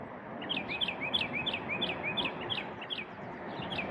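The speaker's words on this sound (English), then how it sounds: "happy birds singing" Birds chirp and trill in a steady run of quick, high calls, fairly close, over a low rumbling background, beside the Mississippi River.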